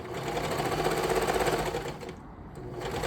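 A sewing machine stitches a leotard side seam from the armpit down toward the hip, a fast, steady, close mechanical whirr that runs continuously and eases briefly near the end.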